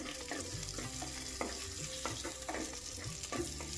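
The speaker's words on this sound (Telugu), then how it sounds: "ఉల్లిపాయలు పచ్చిమిరపకాయలు వేయాలి ఇలాగ నూనె వేస్తుంటాం" Sliced onions and green chillies fry in hot oil for a gongura chicken curry, with a steady close sizzle and irregular scraping stir strokes throughout and no talk.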